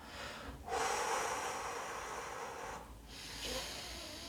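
Two slow, deep relaxing breaths, each a soft airy inhale-exhale hiss, close and quiet, separated by a short pause with no talking.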